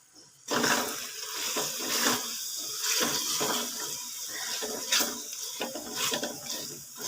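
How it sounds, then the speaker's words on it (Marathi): Water poured into a cooking pot of mutton dum biryani, a steady splashing gush close by with small bursts and clatter, no voices over it. "आता आपल्याला थोडस पाणी ॲड करायचं आहे"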